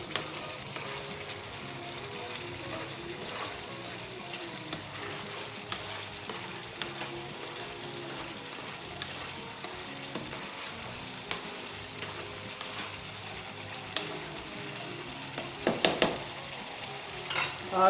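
Turmeric chicken sizzles in a pan as coriander and green chilies are stirred in, a continuous fry hiss with scattered scrapes and clinks of the utensil and a cluster of louder knocks near the end.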